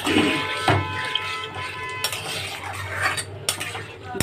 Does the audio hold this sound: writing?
no